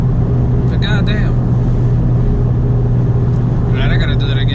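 Loud, steady engine drone from a Honda Civic FK7 sport hatchback fitted with a 27WON W2 turbo, heard from inside at speed, with brief whistling or whining bursts near the start and end and no talking.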